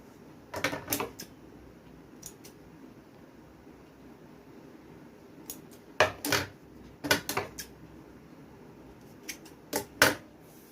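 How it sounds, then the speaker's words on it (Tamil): Scissors snip off extra thread from a blouse in a series of sharp metallic clicks, single and in quick pairs, close and crisp over a quiet room. "எக்ஸ்ட்ரா நூலாக கட் பண்ணிக்கலாம்"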